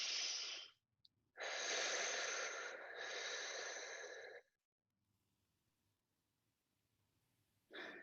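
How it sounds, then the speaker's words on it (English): Deep breathy exhales during a calf and hamstring stretch in a quadruped yoga pose, two long forceful breaths separated by a short pause, then quiet and a final brief breath starting. "exhale breath here"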